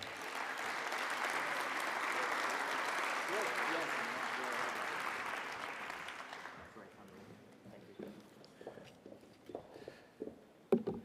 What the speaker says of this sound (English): Another round of applause for Chef Eric